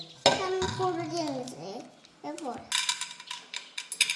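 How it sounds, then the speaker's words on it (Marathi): Someone talks briefly, then popcorn kernels are poured into a kadhai, rattling and clinking against the metal in a quick, bright shower of small hits. "आराध्या टाकते बघा सगळं कढईमध्ये"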